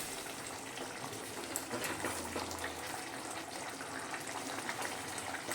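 Tilapia fish curry with green tomato simmers in a pot, a soft continuous bubbling and gurgling hiss, steady and fairly quiet, heard alone without voices.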